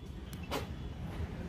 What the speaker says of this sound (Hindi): ये सेंटर लॉक की आवाज़ है।